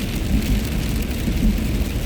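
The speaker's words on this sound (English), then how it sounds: "That rain actually on windshield." Rain pattering on a car windshield in April, a dense, steady wash of drops with low rumbling undertones, fairly loud and close throughout, with no talking.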